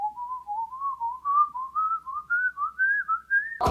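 A person whistles a steady, wavering melody alone for several seconds, rising slowly in pitch, ending with an abrupt bump or click.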